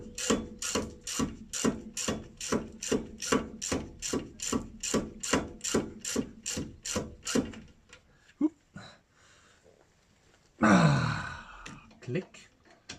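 Torque wrench tightening caliper slide bolts on a Ford Fiesta makes a fast, regular train of close ratcheting clicks that stops, followed by a few scattered knocks and a brief burst of voice.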